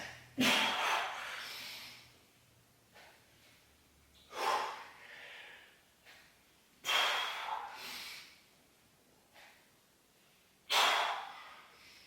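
Heavy breathing from someone doing diamond grip push-ups in a home bodyweight workout: four strong, close exhalation bursts spaced a few seconds apart, with softer breaths in between.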